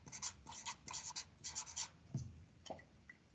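A pen writes on a task sheet during a geography lesson on European capitals, making quiet, close scratchy strokes in short bursts, followed by a couple of faint taps.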